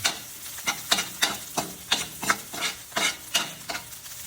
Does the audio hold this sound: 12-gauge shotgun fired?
no